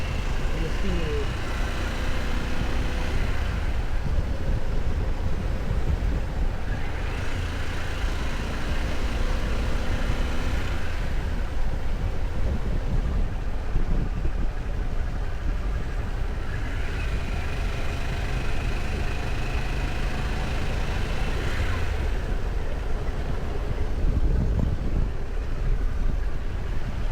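Steady roar of a Harley-Davidson motorcycle cruising on a solo ride, engine drone blended with heavy, constant wind rush over the microphone, continuous and loud throughout.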